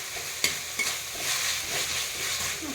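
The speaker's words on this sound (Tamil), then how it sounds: "நல்லா மசிகிற வரைக்கும் தக்காளியை வந்து நல்லா போட்டு வதக்கி எடுத்துடணும்." Tomatoes being sautéed in a pan, with a spoon stirring through a steady sizzle and a couple of sharp scrapes. The sound is close and moderately quiet, with no talking.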